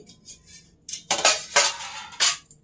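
Plates and utensils handled in a home kitchen: a few soft scrapes, then several loud clattering clanks of dishes and cutlery in quick succession, close by, with no talk.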